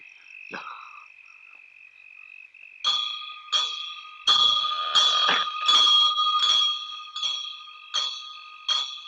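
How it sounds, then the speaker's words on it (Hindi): A bell rings over and over in bright, metallic strikes, about once a second, loud and close, after a quieter start. "तुम दोनों घंटी बजाते रहना।"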